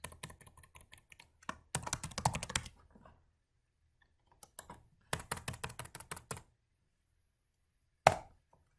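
Fingers type on a computer keyboard in quick clustered bursts of clicking keys, separated by short silent pauses, with a single sharp key press near the end. The clicking is close and fairly quiet, with no talk.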